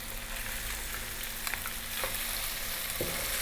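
Tomato, fresh chili and a garlic-ginger paste sizzle steadily in a hot pan, a continuous frying hiss with a few soft stirring scrapes and clicks, close and alone without talk.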